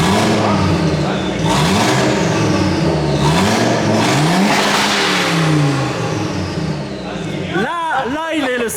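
Audi five-cylinder turbo engine revving on a dyno, loud and close, with repeated rising and falling revs that ends in sharp quick blips, while people talk over it.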